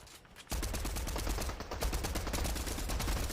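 Rapid bursts of gunfire in a Fortnite esports match, dense cracking volleys firing continuously after a brief quiet opening.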